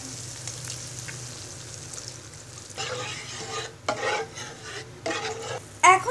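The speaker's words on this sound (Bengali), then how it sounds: "এবার মশলাগুলো কিছুক্ষণ ভেজে নিব" Ginger and mustard paste with spices frying in oil for a raw mango laccha pickle, a steady low sizzle with louder bursts of stirring and scraping toward the end.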